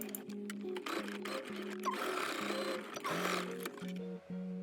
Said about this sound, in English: Make a straight stitch at the end of the strip to secure the elastics.